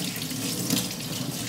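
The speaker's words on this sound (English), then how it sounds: "I'm going to fill the bowl up as far as I can" Tap water pouring steadily into a small bowl, a continuous rushing splash that stays close and even for the whole moment.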